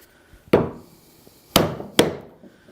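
A chisel is struck to chop a mortise in wood, three sharp, loud, close mallet blows with short ringing decays, the last two in quick succession.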